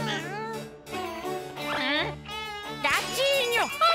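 High, wavering meows sound close by in several short cries, with faint jingling; one meow may be a voice imitating a kitten.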